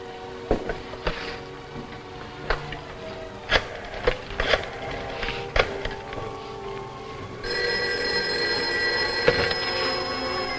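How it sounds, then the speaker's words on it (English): Telephone ringing in a 1950s science-fiction TV drama; scattered knocks and clatter come first, then a sustained bell-like ring fills the final seconds. "Now, look, I'm going to call you on this other phone."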